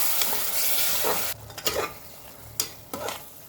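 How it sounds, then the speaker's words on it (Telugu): Tomato frying and being stirred in a pan for a bitter gourd curry, a loud steady sizzle with a few scraping stirs near the end. "ఆ టమాటా వేసుకుందాం. బాగా ఫ్రై చేయండి."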